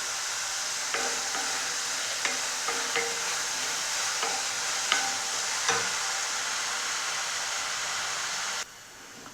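Chopped onions with garlic and salt sauté in a pan. A steady, close frying hiss carries on throughout, broken by sharp spatula clicks and scrapes at irregular intervals. The sizzle shifts abruptly near the end.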